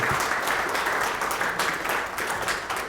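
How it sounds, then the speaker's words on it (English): A conference audience applauds a row of distinguished guests, a steady dense wash of clapping held at an even level for the full stretch, with no voices over it. "So can I please have a huge round of applause for all of those distinguished people."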